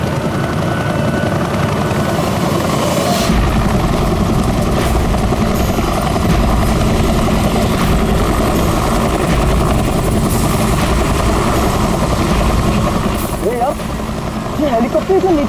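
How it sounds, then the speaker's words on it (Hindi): A low-flying helicopter's loud, steady rotor and engine drone fills the whole stretch, close overhead and unbroken, with voices talking faintly beneath it. "ये हेलीकॉप्टर इतना नीचे क्यों उड़ रहा?"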